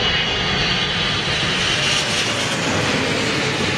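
Boeing 777 jet airliner engines roar loudly and steadily throughout as the aircraft passes close by, a dense, continuous rumble with no speech.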